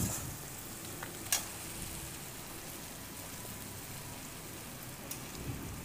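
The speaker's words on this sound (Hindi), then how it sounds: "इसे थोड़ी देर भुनेंगे ताकि ये टमाटर थोड़ा मैसी हो जाए।" Chopped tomatoes with a pinch of salt frying in a pan for a homemade pasta dish, a steady soft sizzle with faint crackles and an occasional clink, heard quietly with no talking.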